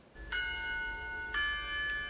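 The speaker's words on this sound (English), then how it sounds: "You hear the bells chime," Church bells at Ohio State ring two clear chimes about a second apart, each tone sustaining and overlapping the last over a low background hum.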